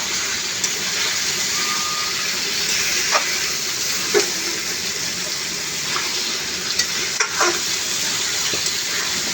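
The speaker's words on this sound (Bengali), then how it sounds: "কষানোর মতো নাড়া হবে।" Garlic and spices frying in a pan while being stirred: a steady hiss of sizzling oil with several sharp scraping clicks of the spoon against the pan, no talking.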